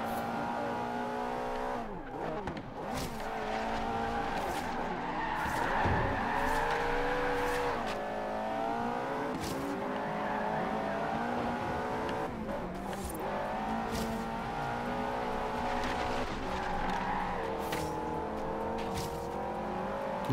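A stock Ferrari race car in Forza Horizon 3 drives a race with a steady engine drone that rises and falls through gear shifts and revs, with brief tire squeals and skids, close and continuous throughout.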